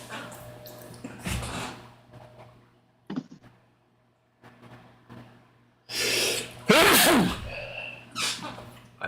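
A single person sneezes loudly and close, with a sharp burst preceded by breaths and softer snorts during a casual Friday-night chat.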